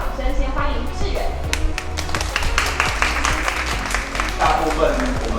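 An audience claps to welcome a hairstylist author at his book signing, a sustained, fairly loud patter of many hands with a voice speaking over it.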